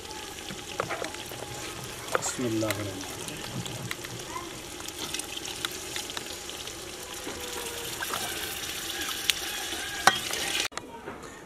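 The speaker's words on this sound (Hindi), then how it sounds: "मैं पानी शामिल करने लगा हूँ" Water pours and splashes into a pot of fish soup over a busy sizzle, with clinks and stirring; someone speaks briefly.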